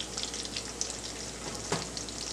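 Sausage frying in a pan for an Italian stir fry: a steady bright sizzle and crackle with a few sharper pops and a brief clink, no voices.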